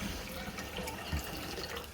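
Hot water from a kettle pours in a steady, close, fairly quiet stream over about two seconds, with no talk over it.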